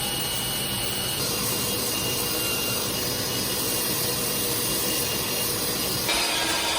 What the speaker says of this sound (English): I did this by clamping my belt sander vertically onto my worktop